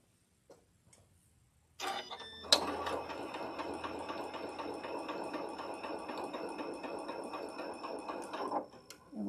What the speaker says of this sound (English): I'm actually just going to start over and stitch that again.